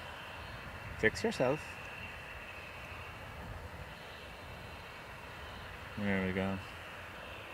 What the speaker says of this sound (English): UA Dreamliner from Chicago.